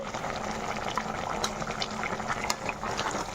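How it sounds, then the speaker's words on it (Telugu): Vegetable pieces simmer in water in a pot while making sambar rice, a steady close bubbling and seething hiss that runs unbroken throughout with small pops, no voices. "ఈ ముక్కలు మరొక 3 నిమిషాలు ఉడకనిద్దాం"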